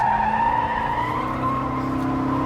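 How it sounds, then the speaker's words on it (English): A Chevrolet Corvette Z06 power-slides at about 100 mph, its engine holding a loud, sustained, tonal howl that shifts pitch slightly as the car drifts. "flipping it into a big power slide of all heavenly power slides"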